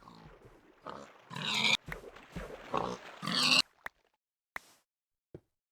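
Minecraft Infdev pigs grunt and squeal in a run of loud, choppy bursts, followed by a few short, sharp hit sounds with silence between them.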